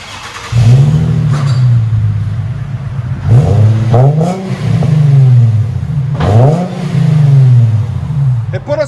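Infiniti engine with its original dual-in, dual-out muffler, revved in three loud, close bursts, each note climbing and falling with a deep exhaust growl between the blips.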